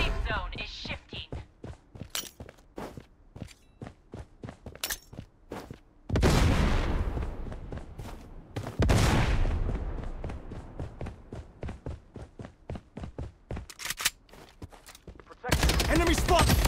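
Bursts of automatic rifle fire from the Blood Strike shooter game on a Shutter Island map, an AK47 rattling in rapid volleys with short pauses and louder sustained stretches, plus a few sharp single shots.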